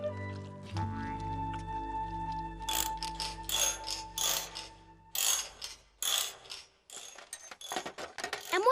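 Dad works on a broken washing machine with hand tools in a cartoon, giving a series of ratcheting clicks and metallic clanks in short bursts after a few held musical tones.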